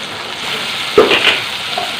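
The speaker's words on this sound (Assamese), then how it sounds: "এইখিনি লৰাই লৈছোঁ ধুনীয়াকৈ।" Spices being stirred and fried in a pan, a soft continuous sizzle with a brief louder scrape of stirring midway, close and alone without voices.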